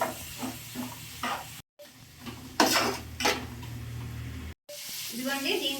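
Chicken noodles being stirred in a pan after a spoonful of tomato sauce goes in, with a steady sizzle, scraping and clinking of a utensil against the pan, and a couple of brief gaps.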